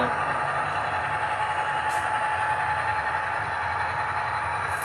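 A model train runs steadily with a continuous rolling rumble and faint whine, close and unbroken.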